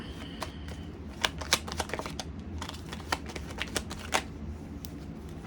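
Tarot cards are shuffled by hand close up, with a quiet run of crisp riffling snaps and flicks coming in irregular bursts.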